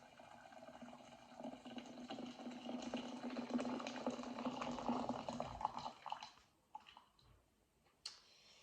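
Hot water from a kettle pours into a bowl in a home kitchen, a continuous rising splash for about six seconds, then a few light clinks and taps.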